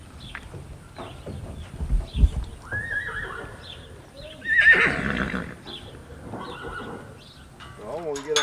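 A horse whinnies loudly near the middle, with hooves clopping and people talking intermittently throughout.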